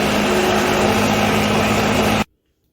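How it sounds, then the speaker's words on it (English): A blender whirs loud and continuous as it blends a kiwi and banana smoothie, then cuts off abruptly into silence after about two seconds. "Then I'm gonna dump all this into the blender."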